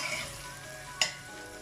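Onions fry in a pan as the base for a Durban-style prawn curry, a steady close sizzle with one brief stir-scrape partway through.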